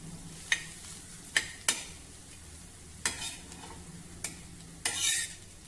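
A spoon stirs and scrapes carrot thecha around a hot pan, with several distinct scraping strokes over a quiet, steady sizzle of frying.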